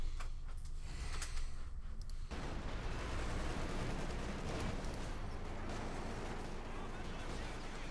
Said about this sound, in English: artillery fire raining down